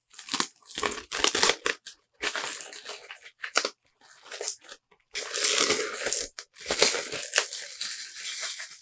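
Packaging around a Marvel Daredevil omnibus hardcover by Charles Soule, with a dust jacket, crinkles and crunches close by in several separate bursts of rustling and tearing, with short pauses between them.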